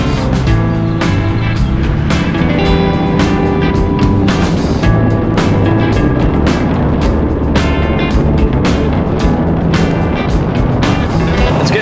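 Truck with a 6.4 engine driving, a loud, steady engine and road drone heard from inside, with repeated sharp clicks and knocks over the constant rumble.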